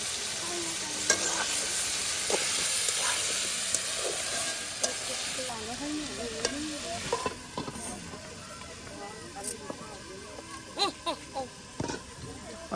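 A potato and flat bean stir-fry sizzles in a pan with a steady frying hiss and occasional stirring clatter, while a voice talks over it for much of the time.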